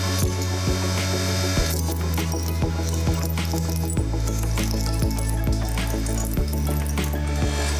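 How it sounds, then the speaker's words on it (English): A hydraulic press works on a spring toy with a continuous loud mechanical drone and repeated ratcheting clicks and sharp metallic snaps at irregular intervals. "I put a spring toy under the hydraulic pressure"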